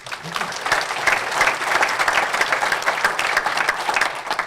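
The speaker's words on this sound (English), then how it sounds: "So quick round of applause" A crowd at a town forum in Bowling Green applauds steadily, dense clapping rising quickly and staying strong throughout without a break.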